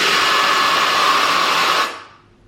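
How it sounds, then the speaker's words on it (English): A small battery-powered handheld air blower roars at full blast, giving a loud, steady, close rush of air that cuts off and spins down over about half a second. "I'm not even sure how you get such a jet of air out of a little battery powered handheld device"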